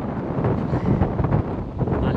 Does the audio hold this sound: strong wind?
yes